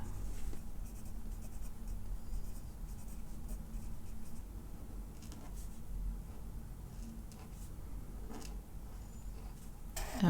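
A Shuttle Art pen scratches steadily across planner paper, a soft continuous writing sound with small stroke variations, close and quiet, with no talking.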